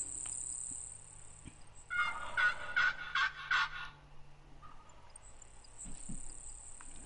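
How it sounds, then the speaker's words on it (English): Several wild turkeys gobble nearby in bursts of rolling calls, loud and close over steady insect and cricket drone, with quiet stretches of outdoor ambience between. "Couple turkeys nearby."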